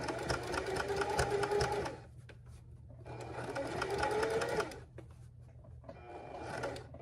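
A sewing machine stitches a circle while the fabric is turned, running in three steady bursts of rapid mechanical whirring separated by short pauses, close and clear with no talking.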